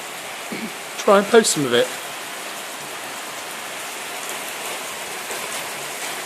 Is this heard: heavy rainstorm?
yes